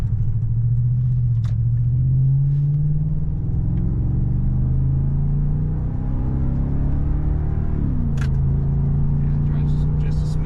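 A Toyota Land Cruiser fitted with overland accessories drives along a road, its engine a steady low rumble with a shift in pitch midway; people talk inside the cabin over the drone.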